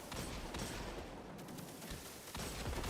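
Fatebringer hand cannon firing explosive rounds in Destiny during a solo run of the Shattered Throne dungeon, heard as a dense, continuous barrage of gunfire and blasts with game effects layered underneath.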